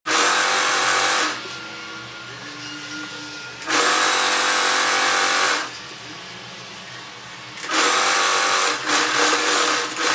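A sewing machine stitching plain fabric for a dress in three loud whirring bursts of a few seconds each, separated by quieter pauses.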